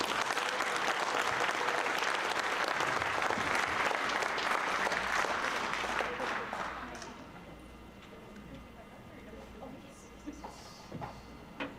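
An audience at a teacher education coin ceremony applauds warmly for about six seconds, a dense wash of clapping that fades off to a quiet room with a few stray claps and soft shuffling.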